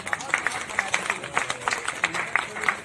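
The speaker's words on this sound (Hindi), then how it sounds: "एक बार जोरदार तालियां" Loud applause for an artist at a literary and cultural book-launch gathering, a dense round of crowd clapping with scattered sharp claps, mixed with background voices.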